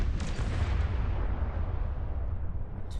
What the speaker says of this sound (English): the flame brutally split the carriage with a deafening roar